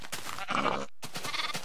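Sheep in the video game Minecraft, two short nasal bleats close up and clear, separated by a brief gap of silence.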